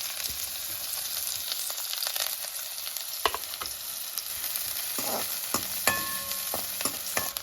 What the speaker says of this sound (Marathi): आता तेलामध्ये कांदा